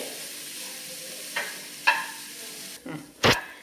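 Grated carrot sautéing in ghee for carrot halwa, a soft steady sizzle with several sharp scraping clicks of a spoon stirring the pan, close and clear.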